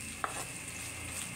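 Garlic frying in a pan while mussels are being cooked, giving a steady, close sizzle with one brief clink of stirring partway through.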